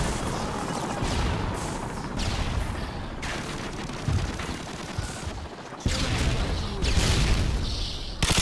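Gunfire in Call of Duty MW2 team deathmatch with an MG4, dense bursts of rapid shots and booms that come and go across the whole stretch, loud and close.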